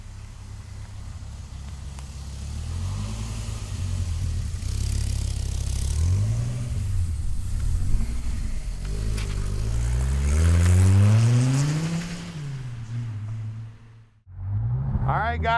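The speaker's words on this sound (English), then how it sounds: "let's take this Viper for a ride" A 1993 Dodge Viper's engine runs loud and close, revving up and settling in rising and falling sweeps as the car pulls away, with a brief dip near the end before the engine note returns.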